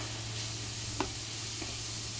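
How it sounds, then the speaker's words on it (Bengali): Chili and onion fry in a pan with a little oil while being stirred, giving a quiet, steady sizzle broken by a couple of soft scraping clicks. "এভাবে নেড়ে চেড়ে আমি মরিচ পেঁয়াজটি রান্না করে নিব"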